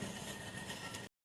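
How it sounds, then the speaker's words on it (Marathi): A train moving through a station, heard as a brief steady rumble of rolling carriages that cuts off abruptly. "काही चालली ट्रेन चालली. तर ट्रेन ही बघा."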